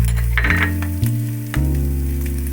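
Boiled onion paste dropped into a hot frying pan, giving a loud, steady close sizzle and hiss that runs throughout with a couple of brief clunks.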